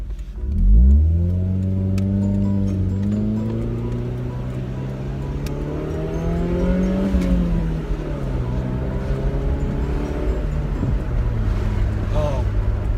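A car engine hums steadily while driving on an island road with a speed limit of 80 km/h. A rising tone at the start settles into a loud, continuous drone with shifting pitch, with a voice talking over it.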